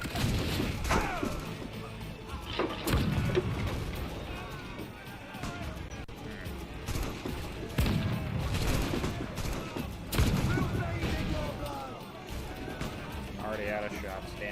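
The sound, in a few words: gunfire in Assassin's Creed IV: Black Flag video game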